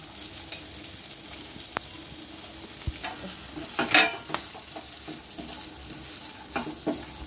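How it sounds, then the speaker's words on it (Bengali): Chicken fries in a pan with carrot and capsicum, making a constant sizzle close by. Several clinks and scrapes of stirring rise around the middle, and no one speaks. "এই যে চিকেনটা আমি এখন ভালোভাবে ভেজে নেব।"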